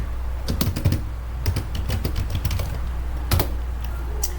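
Computer keyboard typing into an Excel spreadsheet, rapid clusters of key clicks in uneven bursts, close and fairly loud over a steady low hum.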